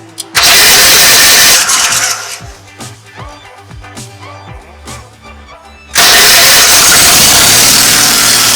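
An old tractor engine cranks after being choked, sputtering through several uneven turnover attempts before catching and roaring loudly into a steady, close running idle.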